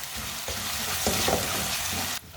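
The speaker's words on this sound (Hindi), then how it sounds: "अदरक और लहसुन को भी मैंने 2 मिनट के लिए पका लिया है।" Ginger and garlic frying in a pan, a loud, steady hiss of sizzling oil with occasional stirring scrapes, cutting off abruptly near the end.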